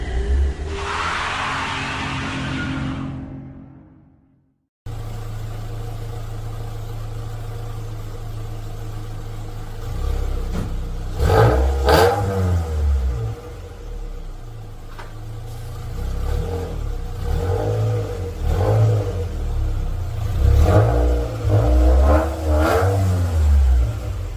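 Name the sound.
Toyota MR2 Mk2 SW20 3SGE engine running, warming up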